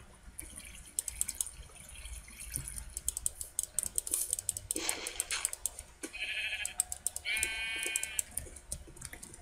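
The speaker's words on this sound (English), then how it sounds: "There's some sheep over here." Sheep in the Minecraft video game bleat several times in short, clear wavering calls, set among dripping water and other game sounds.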